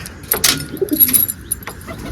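Soft, low pigeon coos repeat a few times near at hand, with light rustling and a faint metallic clink in the background.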